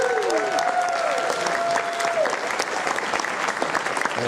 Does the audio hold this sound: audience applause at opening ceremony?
yes